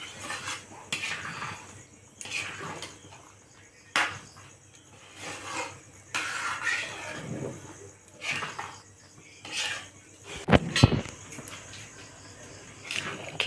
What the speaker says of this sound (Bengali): ভালো করে নাড়িয়ে নিতে হবে।